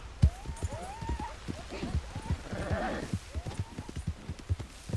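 Hooves of a horse ridden in Red Dead Redemption 2 Online clip-clop in a steady, close rhythm, with a horse snorting or whinnying partway and someone talking over it.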